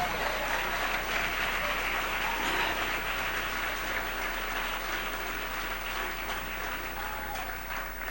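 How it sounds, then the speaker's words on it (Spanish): Church congregation applauding during a 2003 sermon by Pastor Jorge Garcia, a continuous, even wash of clapping heard at a distance, soft and rain-like over a low steady hum. "Dale ese aplauso al Señor."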